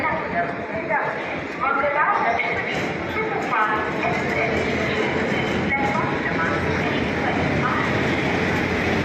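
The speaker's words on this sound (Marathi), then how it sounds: "बघता मी तो आपली ट्रेन आली आहे" The Mangala Lakshadweep Superfast Express, an electric-hauled train, rolls into a station with a continuous low rumble and clatter of wheels on rails, while someone talks close by over the noise.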